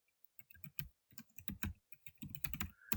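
Fingers tap quickly on a computer keyboard, bursts of soft clicking keystrokes with brief pauses between words, close and quiet with no voices.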